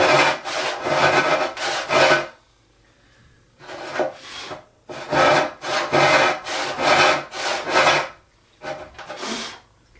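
A hand saw rip-cutting 2-inch-thick wood, rhythmic rasping push-and-pull strokes in close, loud bursts separated by short pauses.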